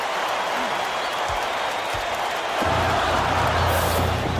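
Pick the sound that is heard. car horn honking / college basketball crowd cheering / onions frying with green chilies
college basketball crowd cheering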